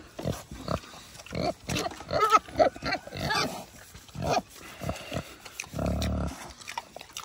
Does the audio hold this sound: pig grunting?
yes